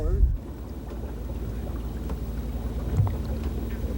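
Outboard boat motor dragging on a river during a bowfishing outing for gar, a steady low engine drone with wind noise on the microphone, running continuously at close range.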